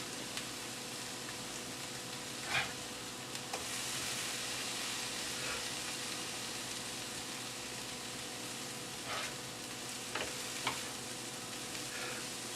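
Bread frying and browning in a pan for a Reuben sandwich, a soft steady sizzle with occasional small clicks and scrapes of the pan, quiet and close with no talking.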